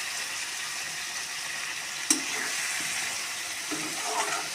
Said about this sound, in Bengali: তো সব কিছুই আমি ভালো করে ভাজা ভাজা করে